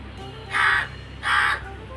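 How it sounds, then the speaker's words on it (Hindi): A crow caws twice outside a house, two loud, harsh calls close by, separated by a short pause over a quiet background. "यहाँ पे आया था आज एक कौवा तो मैंने सोचा इसकी एक वीडियो बना लूँ।"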